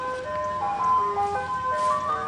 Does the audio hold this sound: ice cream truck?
yes